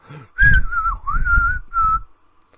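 A loud, wavering high whistle from the Creeper in Jeepers Creepers: Reborn sounds in three sustained phrases, bending in pitch, over a low rumbling background.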